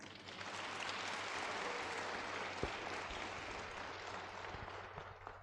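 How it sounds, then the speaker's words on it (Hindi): Audience applause at a peace festival gathering in St. Paul Cathedral, Raipur, a steady faint wash of clapping filling the room without pause, with a low hum beneath and one sharp knock midway. "पंडित जी आपने बड़े भाव से और प्रपन्नाचार्य भाव से पढ़ा है, उसके लिए ताली बजा देंगे।"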